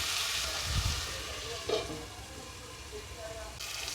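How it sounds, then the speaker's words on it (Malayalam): Onion and tomato for a Kerala-style clam roast are stirred in a pan, a soft steady sizzle with a few scraping strokes of the spoon, close up. "ഞാനൊന്ന് തുറന്നൊന്ന് ഇളക്കി കൊടുത്തിട്ടുണ്ട്"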